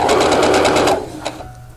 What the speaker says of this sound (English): you just keep matching up those slits and sewing